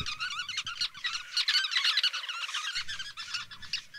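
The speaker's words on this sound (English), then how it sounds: "this is the common chatter of a sociable weaver" A colony of sociable weavers chattering together, a dense run of high, busy chirps overlapping continuously, fairly close and steady, with some faint low rustle underneath.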